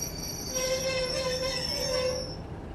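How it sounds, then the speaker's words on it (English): Wheels squealing in Train Simulator Classic, a high-pitched sustained metallic screech with shifting overtones riding over a low rolling rumble, fairly loud and fading out at the end, with no talking. "I just love the sounds of the squeakiness."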